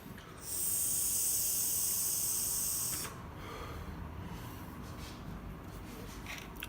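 Air drawn hard through an Innokin Endura T18-II vape tank to prime the coil, a loud steady hiss lasting a few seconds, then a quieter breathy tail.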